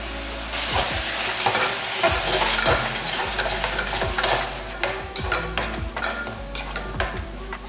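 Chopped tomatoes with a pinch of turmeric sizzle and fry steadily in a pan, with repeated scraping stirs of a spoon through them, close and continuous with no talking.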